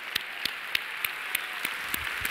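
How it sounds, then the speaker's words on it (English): A church congregation claps in a steady rhythm for the Isaacs, about eight sharp, evenly spaced claps over a soft wash of background applause. "Let's give the Isaacs another good hand clap right now."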